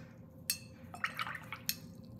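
Paint brush rinsed in a jar of water, giving a few soft, close splashes and drips in quick succession during a short pause in painting.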